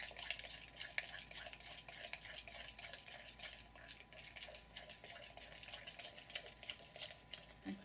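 A thickening homemade shampoo mixture stirred in a container, a regular close ticking of the utensil against the sides with soft liquid swishes, quiet and steady.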